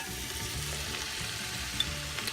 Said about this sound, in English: We're going to let all of these things cook up together.